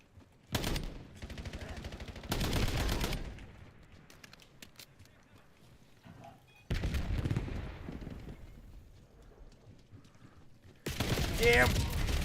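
Bursts of rapid gunfire in a video game shootout, several loud volleys separated by quieter stretches, with a voice talking in between.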